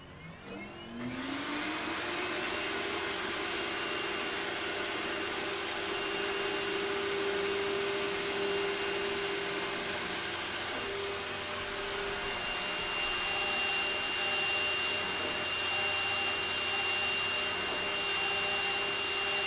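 A CNC spindle spins up with a rising whine, then holds a loud steady high-pitched tone over a dense airy hiss while cutting carbon fiber, continuing unbroken to the end.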